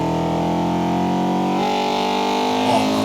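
Modified VTEC car engine in the Forza Horizon 2 video game, revving hard with a loud, steady, buzzing drone that shifts pitch partway through, with no talking over it.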